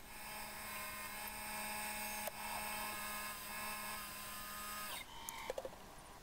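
A CNC lathe turns, drills and parts off an aluminium rod end fitting, giving a steady machine whine with tonal hum across the clip, a brief break midway and a change to clattering cutting sounds near the end.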